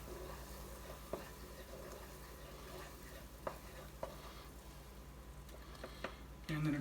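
Shrimp and rice being stirred in a pot with the heat just turned off, giving a soft scraping and sizzling bed with a few brief utensil knocks against the pot, close and fairly quiet.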